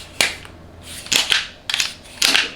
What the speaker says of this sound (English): It's snagging on the metal of the clasps when they're closed